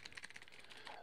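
Rapid clicky keystrokes on a Razer BlackWidow Tournament 2014 mechanical keyboard, a quick even run of crisp taps close by and fairly quiet, with no voice over them.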